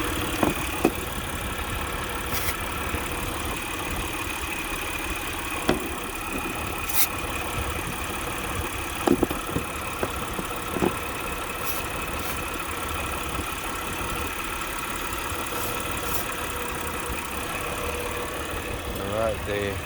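A 2000 Mitsubishi Pajero 4WD V6 with a leaking intake manifold idles unevenly at close range, a steady engine drone broken by occasional sharp ticks and knocks.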